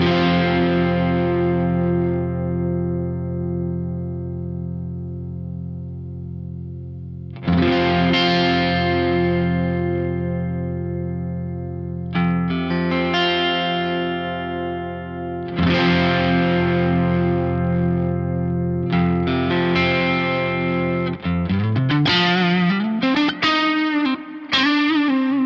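Electric guitar played through a Soldano SLO Mini Head amplifier rings out in loud, distorted sustained chords that decay slowly, then returns with new strums and a closing burst of rapid picked notes with a bending line.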